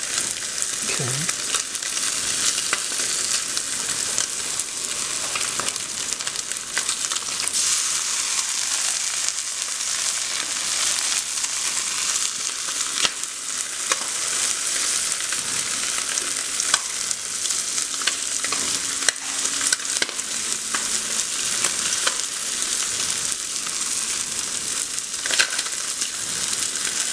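Spam slices fry steadily in a pan with a loud, continuous sizzle and crackle. Occasional faint scrapes and a brief voice sit under the noise.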